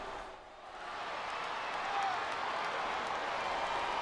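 Arena crowd in the WWE SmackDown vs. Raw 2008 video game, a steady broad roar of cheering that swells slightly and holds throughout, no commentary over it.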